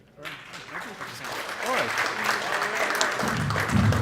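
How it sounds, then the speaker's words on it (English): Audience applause at a security conference talk swells and builds into a steady clatter of clapping while a voice briefly speaks over it. "Give him a big round of applause."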